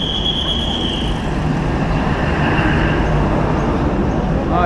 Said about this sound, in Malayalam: ട്രെയിൻ എത്തി.